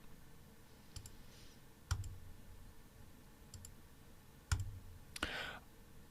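A computer mouse gives sparse, crisp single clicks at close range over quiet room tone, spaced irregularly a second or more apart, with one soft rustle toward the end.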